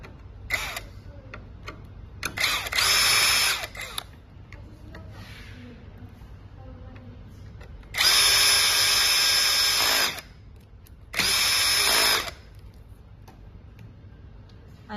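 A power drill driving screws to fix an LED driver in a top cabin light, several short whirring bursts, two longer and louder, with quiet gaps and handling noises between.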